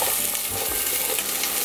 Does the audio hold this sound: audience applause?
no